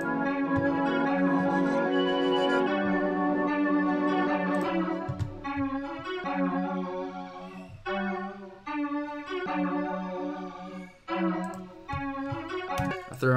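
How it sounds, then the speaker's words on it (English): A weird synth key patch from Nico plays a dense, sustained chordal line in an FL Studio sample, starting as a steady wash and then breaking into choppier, stop-start phrases toward the end, loud and without voices. "I went ahead and added like this weird key from Nico"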